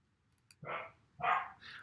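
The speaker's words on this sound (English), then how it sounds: "you hear my dogs barking, they just won't shut up" Dogs give two or three quick barks in a row, fairly close, in a quiet indoor room, with no talk over them.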